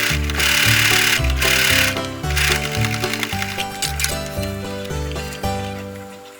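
Home sewing machine stitching quilting lines through a small mug rug, its motor whirring in rhythmic bursts with brief pauses between runs, close and fairly loud with no talking.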